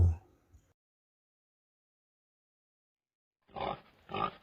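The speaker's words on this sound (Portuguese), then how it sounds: "Porco." A farm pig gives two short, close grunts near the end after a brief noise and a long stretch of silence.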